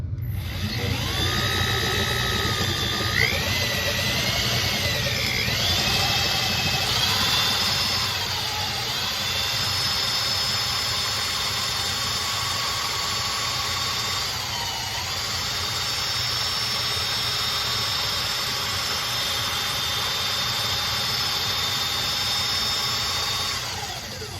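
Continuous high-pitched whine of a power drill running for a long stretch while knurling a billy club, its pitch dipping and rising as the load shifts, with no voices.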